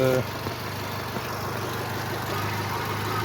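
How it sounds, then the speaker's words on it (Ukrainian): A Skoda Octavia A5 with a 1.6 MPI petrol engine idles quietly and evenly, a steady low hum with faint mechanical ticking heard close by and alone. "Ось так двигун працює тихенько, рівномірно."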